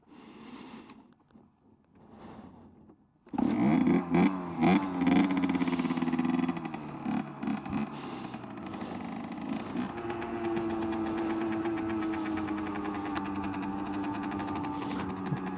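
A Fantic XM 50cc motorcycle with re-jetted carburetor splutters through a couple of faint attempts, then bursts into loud, close two-stroke revving with sharp throttle blips before holding a steady, buzzing drone on a ride.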